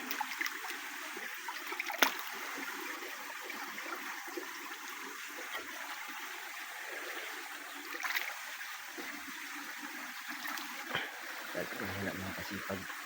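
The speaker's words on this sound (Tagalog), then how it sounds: "Hagos lang ng tubig ang ating maririnig po." Water of a stream flows steadily in a quiet rural spot, a soft, continuous gurgling wash with a few brief louder splashes or knocks, no talk over it.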